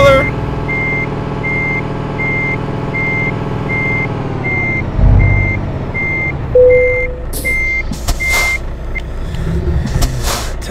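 A heavy truck in Euro Truck Simulator 2 backs up to a trailer, its steady reversing beeper pulsing evenly over a deep idling engine, then a hiss of air brakes and clunks as it stops.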